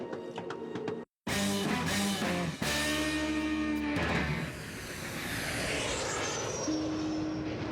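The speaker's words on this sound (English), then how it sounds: "After a 2-hour flight from Kuala Lumpur, I land in Borneo" An airplane landing on a two-hour flight from Kuala Lumpur to Borneo: a loud, close cabin roar of aircraft engines with shifting whines and tones, easing into a steadier hiss.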